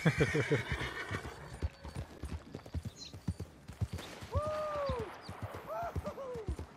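A horse in Red Dead Redemption 2 trots with rhythmic clip-clop hoofbeats, then whinnies twice, the hooves steady and close throughout with voices speaking over parts of it.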